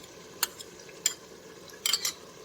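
A spoon stirs tomato ketchup into kadhi in a pot, with a few soft scrapes and light clinks spaced irregularly over a faint, low background hiss.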